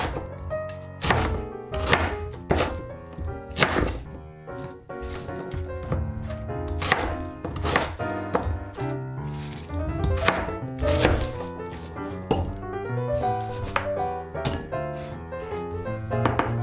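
An onion is chopped into chunks with a knife on a board, giving repeated close, crisp thunks in an uneven, brisk rhythm with no talk over it.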